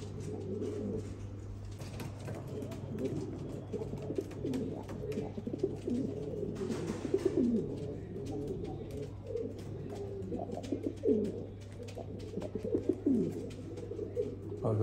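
Pigeons of a new breed coo repeatedly in soft, rolling low calls that overlap one another against a steady low hum, with faint background chatter now and then.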